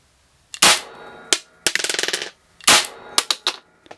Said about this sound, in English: I'm going to fire off 2 rounds in single shot mode, in single fire